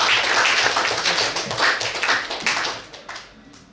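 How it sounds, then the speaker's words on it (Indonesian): Audience clapping at a university teaching session fills the room as a dense, steady wash of many hands, loud at first and easing off slightly toward the end, with no talk over it. "Tepuk tangan untuk kita semua."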